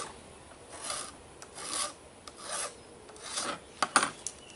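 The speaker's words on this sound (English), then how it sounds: "So just carefully take a little file and" A small hand file rasps along the cut edge of a steel brake line in a series of light, close strokes, with short pauses between passes and a few sharper scrapes near the end.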